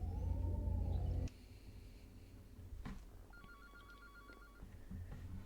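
A telephone rings inside a horror video game, a faint electronic trill with a few repeated tones over a low droning ambience, heard alone without talking.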